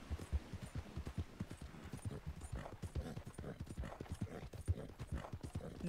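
Horse hooves galloping in Red Dead Redemption 2, a steady rapid clip-clop rhythm that runs throughout, close and moderately loud, with no talk over it.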